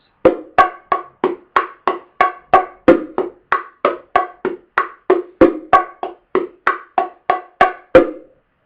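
Bongos played in a steady, even rhythm of about two dozen sharp hits, mixing soft muted ghost-note taps with ringing open tones, close and alone.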